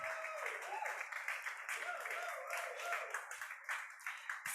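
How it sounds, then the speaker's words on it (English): Scattered clapping from a small group at a rural development talk on thermal villages, close and lively, mixed with voices and talk throughout. "Special applause from the French-Belgium corner."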